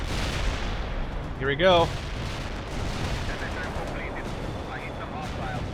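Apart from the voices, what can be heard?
Su-25 jet strafing runs in World in Conflict video game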